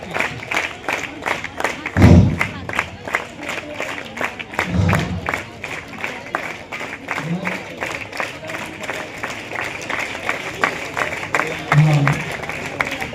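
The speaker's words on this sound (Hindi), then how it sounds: "तालियों की जो गड़गड़ाहट है वो रुके नहीं, लगातार जारी रहे" A crowd applauds at the opening of a girls' kabaddi championship on a cold winter day, clapping in a quick, rhythmic pattern that continues steadily beneath an announcer speaking over a loudspeaker, with a few dull thumps.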